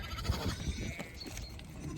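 Sheep bleating outdoors during a walk among lambs being moved, a couple of short wavering calls at moderate distance over steady background noise, with no talk.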